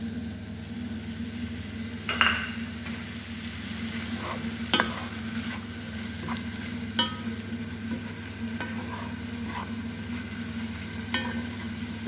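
Sauce sizzles steadily in a frying pan, a continuous hiss broken every few seconds by short scrapes of stirring.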